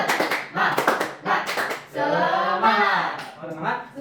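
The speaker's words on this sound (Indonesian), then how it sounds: "Kita lakukan tepuk semangat." An elementary school class performs a rhythmic spirit clap: sharp bursts of group hand claps at the start, then children's voices chanting loudly together.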